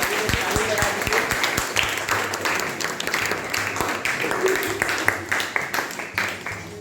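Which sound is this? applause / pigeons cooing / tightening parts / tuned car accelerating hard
applause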